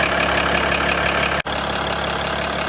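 A 2013 Jeep Grand Cherokee 3.0 V6 idles steadily with the vehicle raised on jacks, a constant loud drone cut by one very brief dropout midway.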